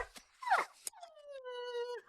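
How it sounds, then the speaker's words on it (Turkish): A young dog gives a short yelp, then a long, thin, high whimper that slides down in pitch, close and fairly quiet. "o bir köpek yavrusu"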